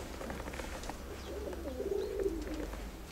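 Pigeons cooing nearby, a soft low rolling coo that swells in the second half over a background of faint chirps and ambient hum.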